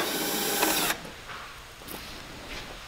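Power screwdriver backing screws out of the floor of an Artisan kiln, a loud whirring burst that stops abruptly, then faint clinks and handling sounds.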